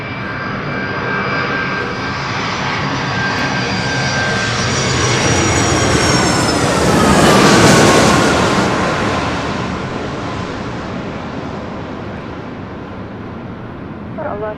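A United Airlines Boeing 757-300 arriving at LAX from Chicago O'Hare roars past, its jet engine noise swelling to a loud peak at mid-clip and then fading as it passes overhead, with a high turbine whine on top.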